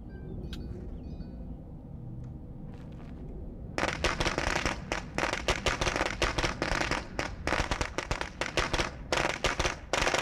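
A quiet stretch, then a rapid, loud string of firecracker pops bursting in irregular bunches for several seconds, in the video game State of Decay 2.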